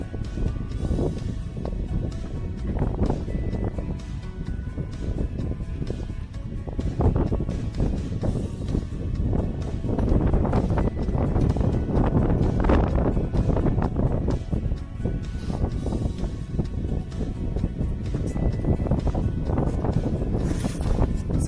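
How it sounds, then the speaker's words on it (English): Strong wind roars steadily outdoors in a garden, buffeting the microphone with loud, continuous gusts and rumble throughout. "It is so windy, y'all, that my seeds, even in the pack, keep blowing away on me."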